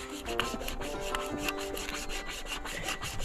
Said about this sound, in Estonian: sellist annab ikka sellise väikse eurose saega saagida